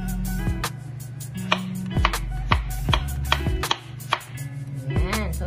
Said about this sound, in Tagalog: Hihiwain lang natin, syempre.